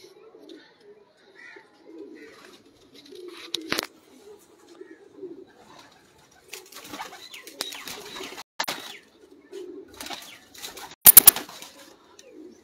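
Racing pigeons coo in short low bursts with pauses between them, and louder scuffling, flapping knocks break in now and then, with no speech.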